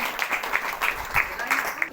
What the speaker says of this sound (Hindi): आप लोग तेज ताली के साथ परमेश्वर को धन्यवाद दीजिए